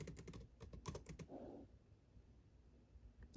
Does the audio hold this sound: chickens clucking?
no